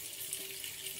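Steady running water from a tap at a sink while preparing for a wet shave, a continuous close hiss with no talking.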